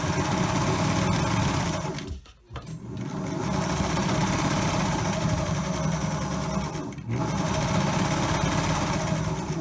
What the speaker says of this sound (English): Do a lock stitch on the top of your strip, and then just sew it straight down